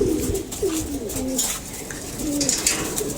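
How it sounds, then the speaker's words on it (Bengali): Several female pigeons coo nearby in low, throaty phrases that repeat at uneven intervals, with faint rustling between calls. "এই যে মাদি কবুতরগুলা"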